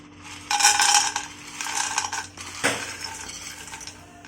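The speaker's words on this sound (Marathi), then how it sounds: "हे जे वडे आहेत आपले, हे वडे आपण त्याच्यामध्ये मंद आचेवर मस्त परतून घ्यायचे." Vadas being sautéed in oil in a pan on a low flame, giving bursts of bright hissing crackle with metallic scrapes and clinks from a spoon against the pan, close and moderately loud.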